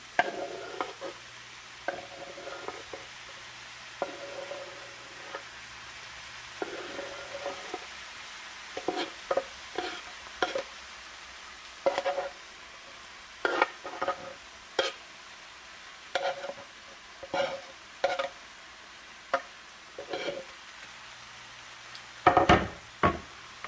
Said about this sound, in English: I'm going to add in my kielbasa meat here